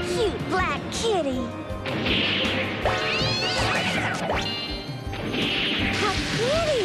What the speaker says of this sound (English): What a cute black kitty.